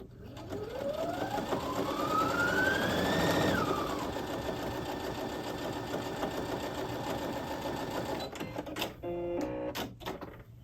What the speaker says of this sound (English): I wanted to show you how it handles a jeans seam.